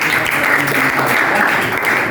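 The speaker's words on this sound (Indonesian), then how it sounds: "kita berikan tepuk tangan dulu dong." Students in a classroom clap together after a maths lesson on determinants, giving brief, dense, fairly close applause that holds steady throughout.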